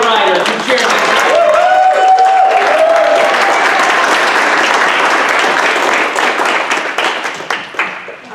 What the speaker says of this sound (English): a huge round of applause for all of our writers and chairmen